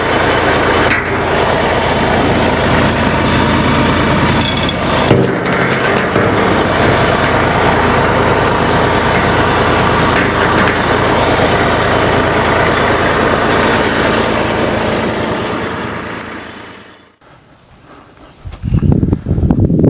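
A truck's engine idles steadily and close by while a 150-gallon aluminum tank is unloaded from its bed; the low rumble holds for about seventeen seconds, then drops away and ends in brief clunks.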